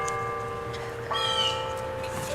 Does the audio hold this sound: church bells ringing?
yes